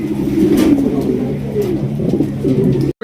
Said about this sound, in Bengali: একদম বিগ সাইজের মাল্টেস কবুতর